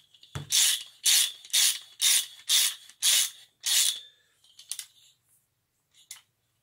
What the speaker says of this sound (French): tu prends ton bon cliquet, force 1000 avec une douille de 16. Et tu finis le serrage.